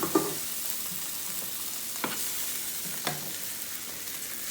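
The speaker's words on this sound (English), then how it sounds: "I'm going to use my cooking olive oil to just brown my cube steak" Cube steak browning in olive oil, a steady close sizzle with a few spaced knocks and scrapes of a utensil in the pan, and no speech.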